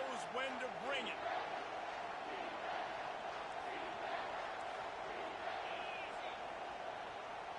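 A football stadium crowd roars in a loud, sustained wash of cheering and noise, with a commentator's voice talking over it throughout.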